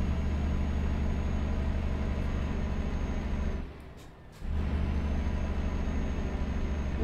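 Heavy truck engine droning steadily under a 44-tonne load while climbing a hill in Euro Truck Simulator 2, a low constant rumble that briefly drops away in a gear-change gap before returning.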